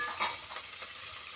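Green chillies sizzle and crackle in hot oil with mustard and cumin seeds, a soft continuous fry with a brief stirring scrape.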